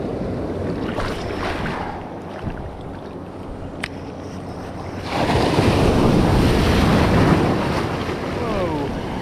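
Ocean surf roars and breaks along the Topsail Island beach during surf fishing, a loud continuous wash that swells into a heavier breaking wave midway, with strong wind buffeting the microphone.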